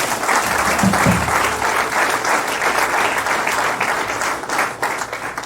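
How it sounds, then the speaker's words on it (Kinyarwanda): A church congregation applauding during a sermon, steady loud sustained clapping filling the whole stretch. "Ikomera amashyi mu izina ryawe."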